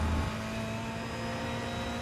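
A GTE race car engine in rFactor 2 drones steadily at high revs, loud and continuous with a constant pitch throughout, no voices over it.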